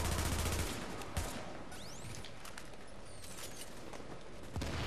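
Gunfire in The Division's Dark Zone, with a loud burst at the start and sharp shots around one second and near the end over a dense, noisy combat background.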